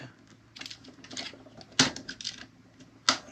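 Plastic joints of a Transformers Star Optimus Prime toy being folded into place, a series of sharp close clicks and ratcheting snaps scattered irregularly, with two louder distinct clacks standing out.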